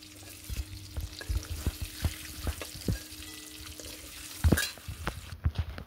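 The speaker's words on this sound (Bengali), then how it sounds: "ডিমগুলোকে আমরা ভালো মতো ভেজে নেব যাতে সেগুলি লাল হয়ে আসে।" Boiled eggs dusted with turmeric fry in a pan, giving steady close sizzling with repeated sharp clinks and scrapes as they are turned, and a brief louder burst near the end.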